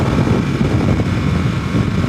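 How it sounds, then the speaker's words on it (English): A 2022 Harley-Davidson Nightster engine pulls under light throttle through a sharp turn, a steady, loud, close rumble with wind noise mixed in. "Once I go around this turn, I'll give it a little bit of gas."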